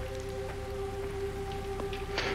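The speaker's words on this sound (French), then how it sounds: "Oh, il pleut." Soft rain patters in a video game level, a quiet steady wash with a few faint drop ticks over a constant low hum and a sustained tone.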